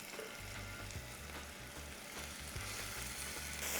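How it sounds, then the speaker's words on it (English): Beef sizzles and fries in a single layer in a pan for Jamaican pepper steak, a close, steady crackling hiss with a faint low rhythmic thumping beneath and no speech. "I'm gonna add my beef in the pan in a single layer. Hear that sizzle?"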